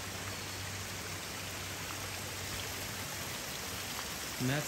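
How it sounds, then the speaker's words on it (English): Small stream of running water trickling down rocks on a Great Smoky Mountains trail near Tremont, a steady soft wash of noise with no break, faint and even throughout. "running water here coming down the rocks."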